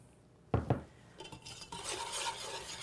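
Whisk working sugar and cornstarch together in a bowl, two sharp clinks against the rim, then a steady scratchy swishing of the whisk stirring close up.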